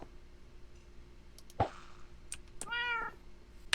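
A Minecraft cat gives a single clear, drawn-out meow near the end, preceded by a brief click and a soft plop against a quiet game background.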